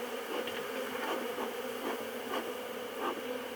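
Agitated honeybees from an opened Flow hive during a first inspection, a steady dense buzzing swarm close by with individual bees swelling louder as they pass near, no voices.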